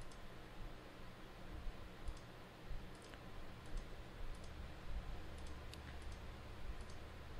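Light computer mouse clicks, single and doubled, come at irregular intervals while a polygon is digitized in QGIS, small and close over faint room noise with no speech.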